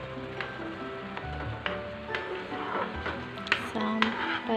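A spoon scrapes and clinks against a pot while tteokbokki rice cakes and noodles are stirred in simmering liquid, with irregular metallic taps and soft bubbling close by, and a voice speaks over it.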